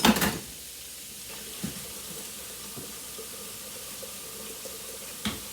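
Tap water runs steadily into a kitchen sink during handwashing, a continuous close hiss after a brief louder splash at the start, with a faint knock or two partway through.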